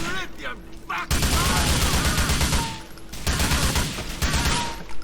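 Gunfire in the video game GTA 4 with graphics mods: dense, loud bursts of rapid shots in two long volleys separated by a short gap, with game noise around them.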